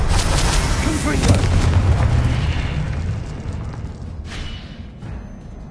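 A Confringo explosive spell blast in a Hogwarts wizarding game, a loud broad rumbling burst that starts at once and slowly fades over several seconds with scattered crackles.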